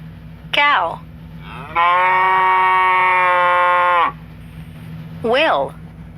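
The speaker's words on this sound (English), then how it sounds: "Cow." A cow from an animal sound app gives one long, sustained, resonant moo, framed by short low grunting calls just before and after it.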